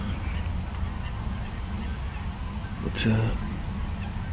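Water birds honk and call at a fishing lake, with one brief louder squawk rising above steady outdoor ambience while someone speaks.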